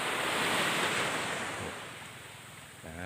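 Sea waves wash onto a beach at a campsite, a loud rushing surf roar that slowly eases, with wind buffeting the microphone and no talk.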